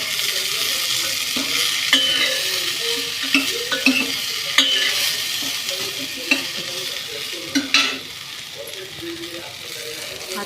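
Finely chopped cluster beans (guar) sizzle and fry in hot oil while a spoon stirs and scrapes the pan in irregular knocks, with a voice talking throughout.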